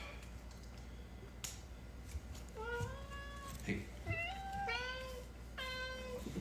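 Several rising, drawn-out meows from a cat come in quick succession, close and clear over faint background noise, with a brief spoken word between them.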